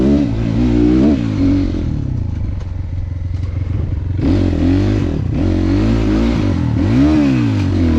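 An HJ250 off-road motorcycle on a rough trail toward Sanu Gaun, its engine loud and close, revving up and down continuously with a brief easing midway before surging again.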